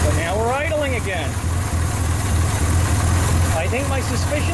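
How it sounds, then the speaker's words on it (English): A Chevrolet Corvair engine with cleaned carburetors and a suspected hiss from a carburetor base gasket idles steadily and close by, a low even rumble running throughout while someone talks over it. "But now we're idling again."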